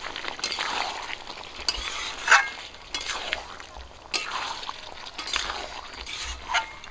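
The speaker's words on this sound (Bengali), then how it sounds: "কুমড়ো আর চিকেন দিয়ে আবারও একটু কষিয়ে নেব।" Pumpkin and chicken cooking down in a pan, a soft steady sizzle broken by intermittent scraping stirs and clinks of a spoon against the pan, close and moderately quiet with no talking.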